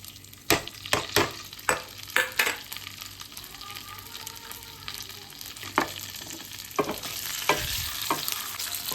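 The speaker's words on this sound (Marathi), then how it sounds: "आणि त्यानंतर मग मी यात इडली टाकणार आहे आणि थोडीसं मीठ" Mini idli frying in hot oil with cumin, a steady close sizzle broken by several sharp scraping stirs near the start and again toward the end, no talking.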